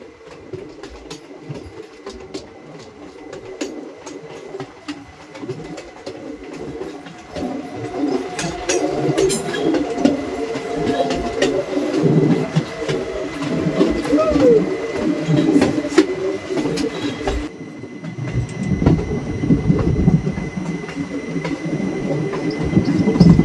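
A long-distance passenger train on the Lumding division rolls along the rails around a curve, a steady rumble with rattling wagon noise and faint clicks, heard from on board, with a person talking over it.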